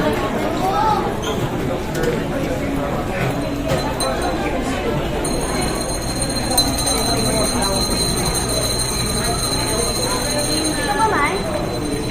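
A Manila LRT Line 1 train rumbles steadily along its rails with a constant loud roar, faint metallic clinks and squeals, and a high electronic whine partway through, while people talk throughout.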